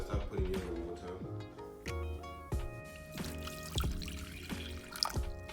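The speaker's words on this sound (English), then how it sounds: "So we're gonna start putting in the water." Water is poured into a bowl for making oats cereal with cinnamon and powdered milk, a close, steady trickle with ringing tones and soft splashes, and no speech.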